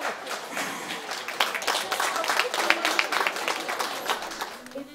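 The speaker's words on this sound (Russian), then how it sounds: "Аплодисменты нашему скромному свату" Wedding guests clapping for the groom's father at a reception, a dense burst of applause filling the room under loud talk and cheering voices.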